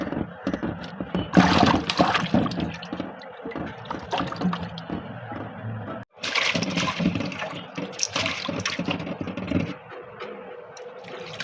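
Lentils being washed in water for a mango and drumstick dal, with continuous sloshing, pouring and dripping close by, broken by a brief pause midway.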